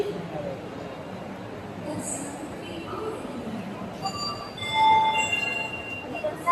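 A train at a railway station platform, heard as a steady low rumble and broad hiss, with faint high squealing tones near the end and indistinct voices in the background.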